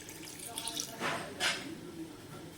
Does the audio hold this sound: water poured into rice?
yes